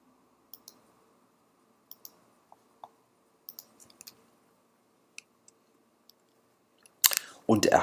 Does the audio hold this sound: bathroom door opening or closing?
no